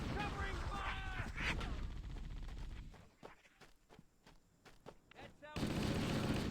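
Rapid bursts of vehicle turret gunfire from a Halo Warthog, loud and sustained at first, then thinning into scattered separate shots before a dense wash of battle noise returns.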